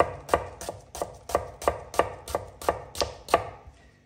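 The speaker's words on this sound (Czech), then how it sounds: "takhle jemně si nakrájím cibulku" Knife finely chopping onion on a cutting board, about a dozen evenly spaced, crisp close chops in a steady rhythm, alone without talk.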